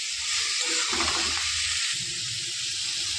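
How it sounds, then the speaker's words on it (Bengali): Shredded cabbage frying and being stirred in a pan, a close, even sizzle with soft scraping and shuffling of the spatula throughout, no voices. "২ থেকে ৩ মিনিট নাড়াচাড়া করলাম, শুধু বাঁধাকপির জলটা একদম শুকিয়ে নিয়েছি"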